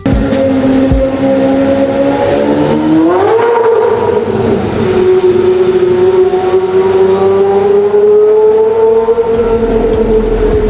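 A custom purple carbon V12 supercar with no driver aids, its engine loud and continuous, the pitch climbing sharply as it revs, then holding and drifting upward again.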